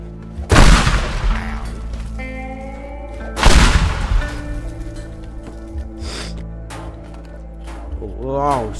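Two loud booming blasts go off a few seconds apart as a propane tank explodes in the destruction game Teardown, each trailing into rumbling debris, while a person reacts with exclamations and gasps.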